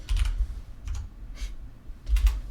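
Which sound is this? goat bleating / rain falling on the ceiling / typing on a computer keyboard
typing on a computer keyboard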